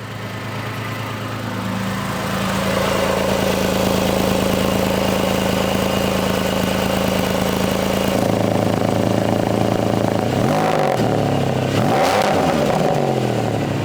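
Porsche 911 997.1 Carrera S with a switchable exhaust, recorded close at the rear, idles with a steady rumble as the valves open and close, shifting the tone, followed by a couple of sharp revs.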